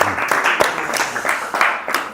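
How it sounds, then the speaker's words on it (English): Audience applause at an ISKCON Boston question-and-answer gathering, a short burst of steady clapping from a crowd, fairly close and continuous with no talk over it. "So give one big applause for Prabhuji."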